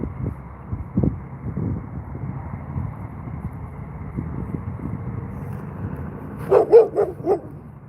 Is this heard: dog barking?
yes